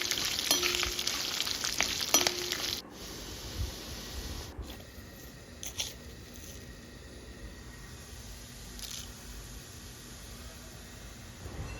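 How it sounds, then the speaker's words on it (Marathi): Curry leaves, dried red chillies and urad dal crackle in hot oil, a bright sizzling burst at first that settles into a quieter, steady fry with occasional pops and clinks. "कढीपत्ता लाल वाळलेल्या लाल मिरच्या आणि उडीद डाळ हे सर्व एकत्र करून आपण तेलामध्ये घातलं आहे"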